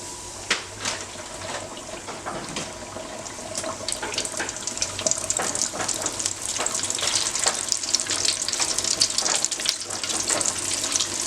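Chicken wings are dropped into oil at 350 degrees in an XL butterball fryer, and a dense crackling sizzle builds and grows louder as bubbling spreads, close by with no speech.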